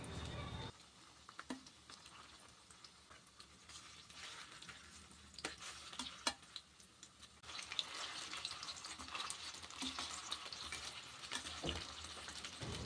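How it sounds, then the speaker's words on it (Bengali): Vegetable Manchurian balls fry in hot oil with a constant soft sizzle, punctuated by occasional sharp pops and clicks as they are turned, fairly faint throughout. "এইভাবেই একটু সময় নিয়ে মঞ্চুরিয়ান বলগুলোকে উল্টে পাল্টে লাল করে ভেজে নিতে হবে।"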